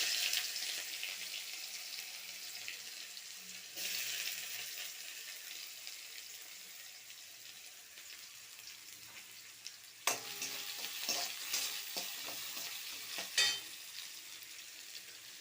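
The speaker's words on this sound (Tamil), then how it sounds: "ஸ்டவ்வில் கடாயை வைத்து எண்ணெய் ஊற்றி கடுகு, உளுத்தம்பருப்பு போட்டு தாளிப்போம்." Onion frying in a wok of hot oil with mustard seeds and urad dal, a steady close sizzle that surges as ingredients drop in, with stirring scrapes and a few sharp clinks near the end.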